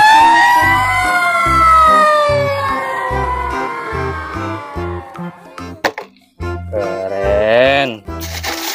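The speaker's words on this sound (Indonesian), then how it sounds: "mobil damkar, mobil truk pemadam kebakaran" A toy fire truck's electronic siren wails in loud, sweeping rising and falling tones, with a steady electronic pulse and a voice speaking over it.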